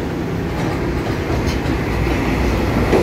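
A twelve-car Taiwan Railways EMU3000 electric multiple unit on a semi-express run near Ruifang rolls past close by, a steady loud rumble of wheels and motors with faint rail clatter throughout.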